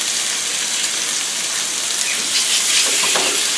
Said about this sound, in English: So my pan is pretty much hot. I'm going to add it in. Hear the sizzle.